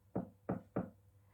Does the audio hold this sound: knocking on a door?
yes